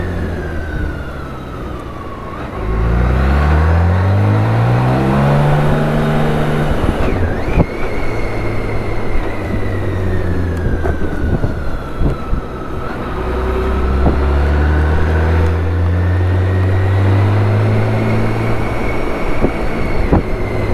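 A BMW K1600 GTL motorcycle on tight, twisting roads revs up and down through corners, its smooth engine note rising and falling in pitch repeatedly against steady wind noise, loud and close.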